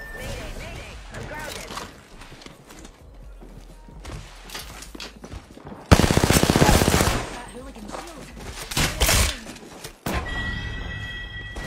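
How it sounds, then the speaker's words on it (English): Gunfire in a first-person shooter game, including sniper rifle shots: sharp, loud bursts and cracks scattered through the span, with a dense blast near the middle, over game sounds and a speaking voice. "He just shot a sniper shot at me."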